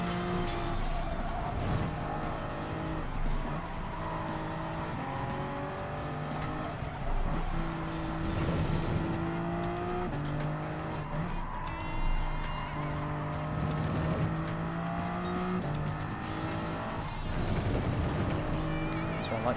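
A GR3 race car races around Suzuka in Gran Turismo 7, its engine droning continuously with rising and falling pitch through gear changes, along with tire squeal through corners and a voice talking over it.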